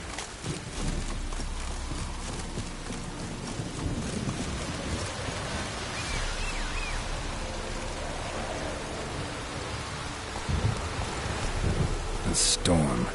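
A thunderstorm in The Witcher game: a steady wash of rain noise with low rumbling beneath and intermittent clip-clop of horse hooves, fairly constant throughout, with a brief brighter crack near the end and no clear speech.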